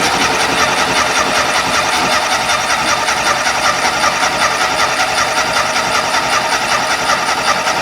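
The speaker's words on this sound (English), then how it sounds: "Should take a minute of cranking, but should hopefully light off." A 1972 VW Beetle air-cooled engine with dual carburetors turning over under the starter, a steady loud mechanical churn that holds without a clear catch, close by.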